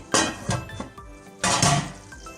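A metal lid is set onto a cooking pot of beef yakhni biryani base, giving a few sharp clanks and clinks in quick succession, close and fairly loud.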